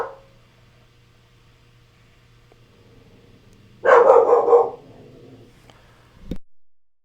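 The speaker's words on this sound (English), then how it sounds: "that's my dog going nuts because he does." A dog indoors bursts into a short, loud run of barks at people outside, after a quiet stretch with a low steady hum, then one last sharp bark.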